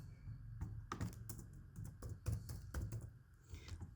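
Quick bursts of keystrokes on a computer keyboard, close and fairly quiet, clattering in uneven runs with short pauses between them.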